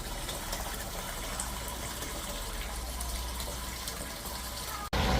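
Three-cornered leeks (Allium triquetrum) rinsed under running tap water, a steady close rush of flowing water that continues evenly throughout, ending with a brief sharp knock.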